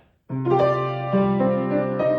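A sustained piano chord rings out after a brief silence, notes blending and lingering with a soft half-pedal wash, a new chord entering near the end.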